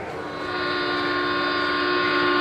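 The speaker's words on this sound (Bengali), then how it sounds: "ট্রেন যখন দমদম পেরিয়ে গতি নিতে শুরু করেছে" A moving train serves as a sound effect in a Bengali detective audio story, a steady loud mechanical rumble with sustained horn-like tones that build slightly over a few seconds.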